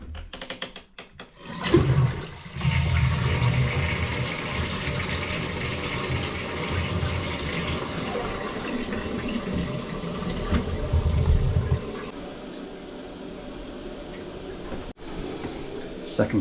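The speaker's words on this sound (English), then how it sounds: "Second flush done." A toilet flushes close by, loud rushing water surging and draining for about ten seconds before settling into a quieter cistern refill hiss, with a few handling knocks around it.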